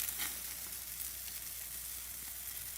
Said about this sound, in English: if that sizzling sound made your mouth water, you're in the right place